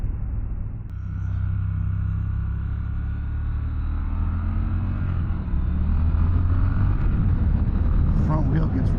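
A 2024 Triumph Scrambler 1200X being ridden, its engine a steady loud rumble with wind roar that rises as the throttle opens, and a rider talking over it near the end.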